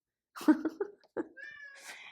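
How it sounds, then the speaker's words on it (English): A cat gives a few short, close meows in quick succession, followed by a longer rising meow, with silence between the calls. "Leo, the cat, says hello."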